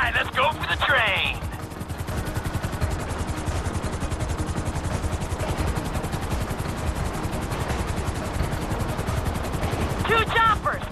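Helicopter rotors in the video game GTA 5 thud as a steady, dense whir throughout, mixed with bursts of gunfire and game effects, loud and continuous.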